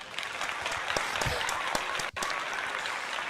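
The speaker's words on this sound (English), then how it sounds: "I want to give you a round of applause for that." Canned crowd applause sound effect triggered from a Stream Deck: a continuous, fairly loud wash of many clapping hands, steady throughout with one brief dropout partway through.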